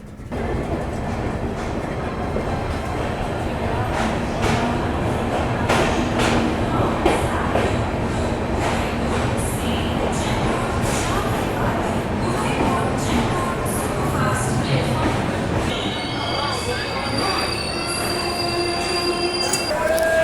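The Udaipur Jaipur Holiday Special Express pulls into Ajmer Junction, heard from inside a sleeper-class coach: loud continuous rumbling and wheel clatter, then drawn-out, high-pitched brake and wheel squeals as the train slows.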